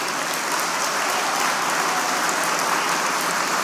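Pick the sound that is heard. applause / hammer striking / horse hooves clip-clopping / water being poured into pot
applause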